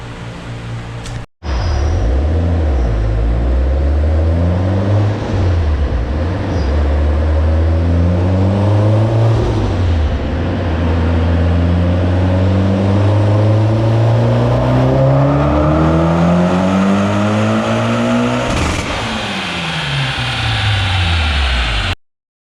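Mitsubishi Evo X running on E85 fuel revs on a dyno after a brief cut, the loud engine note climbing and falling in long sweeps through the gears, close and continuous with no talking.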